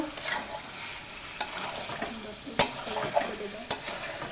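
Chicken pieces stir-fried with spices in a pan for a home-style chicken curry, a low steady sizzle broken by several sharp scrapes and clinks of a spoon against the pan.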